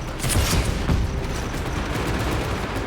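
Loud, close, sustained gunfire in the Just Cause 3 video game, with rapid overlapping shots and booms blending into a dense roar, no voices.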